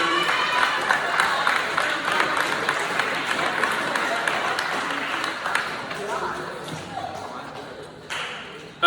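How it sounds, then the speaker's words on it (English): Crowd applause with scattered claps and cheering at a middle school awards ceremony, broad and steady before tapering off near the end. "So can y'all clap it up for Mylan Harrison?"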